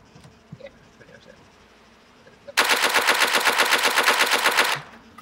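Bison gun firing full-auto in Arma 3: a single sustained burst of rapid, evenly spaced shots lasting about two seconds, loud and close, preceded by quiet game ambience and faint clicks.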